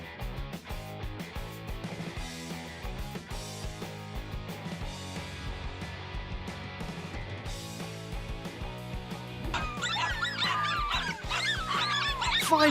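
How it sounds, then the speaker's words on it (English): Five excited dogs yelp and bark at a cornered lizard in the last few seconds, rising over continuous background music. "Five dogs managed to corner a lizard, but their formation wasn't very solid"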